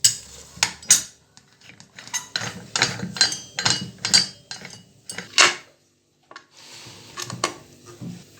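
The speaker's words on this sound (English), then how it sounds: "Now I have closed the pressure cooker tightly" Several sharp metallic clanks and scrapes of a pressure cooker lid being fitted and locked tightly, close by, in short bursts with brief pauses.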